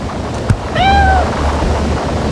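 A kitten gives a single clear, rising-and-falling meow close by, heard over steady background noise.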